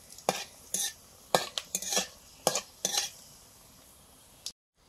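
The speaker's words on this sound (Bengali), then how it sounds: "গোটা গরম মশলা আর গোটা জিরে তেলে দিলাম।" Whole garam masala and cumin seeds in hot oil, with several sharp bursts of clatter and stirring against the pan over a faint sizzle, ending in a brief silence.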